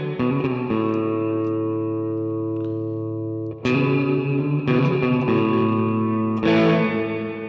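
A sustained electric guitar chord washes through the reverb of an Mvave Mini Universe pedal while the reverb tone is shaped. The chord is struck again a few times and its shimmering tail lingers between strikes, with no voices.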